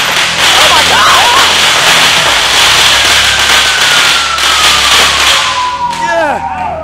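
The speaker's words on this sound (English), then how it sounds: "Those are firecrackers." Firecrackers go off in a rapid, continuous crackling barrage at a wrestling event, with sharp pops and whistling streaks over a loud crowd roar.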